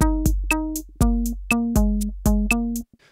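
A looped drum pattern programmed in music production software, with punchy kicks under bright hi-hat and snare hits and a sustained tonal bass line, repeating steadily over several bars before cutting off cleanly at the end.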